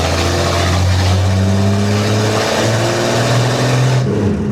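A 1948 Chevrolet engine revs loudly under acceleration, its steady low drone rising and then dipping as the car struggles in the wrong gear, close and continuous without talk.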